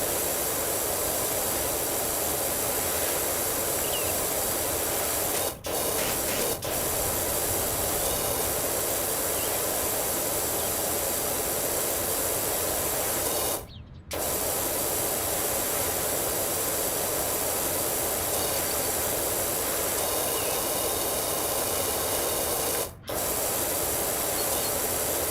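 Pressure washer spray gun in PowerWash Simulator, a loud continuous hissing blast of water that runs almost nonstop, cut by a few short gaps where the spray stops and restarts.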